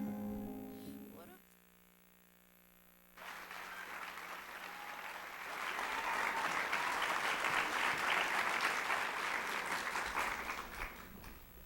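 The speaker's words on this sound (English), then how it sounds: "Let's give her another round of applause." Loud applause from a crowd builds after a brief quieter stretch with a held musical chord, swelling into sustained clapping with some cheering.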